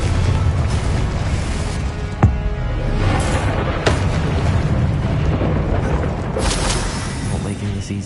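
Spell explosions from Confringo in the video game Hogwarts Legacy, booming bursts rising over a dense, continuous battle din, with sharp blasts standing out around two and four seconds.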